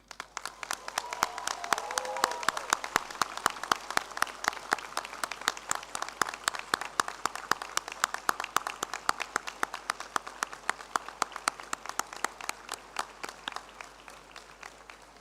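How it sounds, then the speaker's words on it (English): Audience applause at a Class of 2023 graduation ceremony honoring students' families, a sustained crowd clapping in a large hall lasting about fifteen seconds, with distinct claps ringing through and gradually thinning toward the end. "can applaud these families"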